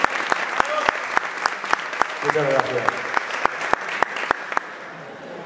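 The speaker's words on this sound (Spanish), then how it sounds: "le damos un aplauso porque tenemos con nosotros a uno de los grandes maestros" An audience at an aquarium expo talk on aquascaping applauds the speaker with a thin, scattered round of individual claps, while someone speaks in Spanish over them and the clapping trails off.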